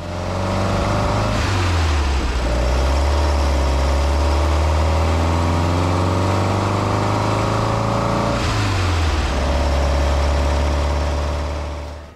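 A VW T1 bus with a Porsche 914 Type 4 engine and twin 40 IDF dual carburetors runs loud and close, holding a steady idle broken by two throttle blips that climb and fall back, with no speech.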